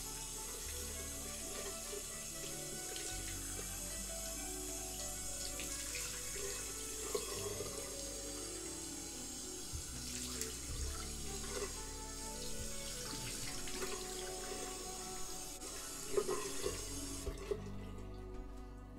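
A bathroom tap runs steadily while someone rinses their face, a continuous close rush of water with small splashes over it, before the flow cuts off near the end.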